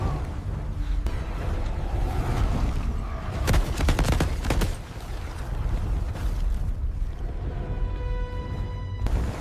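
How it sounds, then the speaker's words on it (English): Gunfire in an AI-generated Bigfoot forest scene, a dense burst of rapid shots and booming blasts over a loud rumbling background, sustained for several seconds before a tonal hum takes over. "Open fire!"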